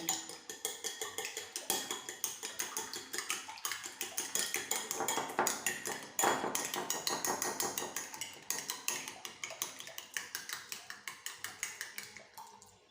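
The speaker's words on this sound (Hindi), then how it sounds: "फिर ये 3 अंडे लेना हम इसको अच्छी तरीके से फेंट लेंगे" A utensil beats three eggs in a bowl with a steady, brisk rhythm of close, clinking taps that continue evenly throughout with little pause.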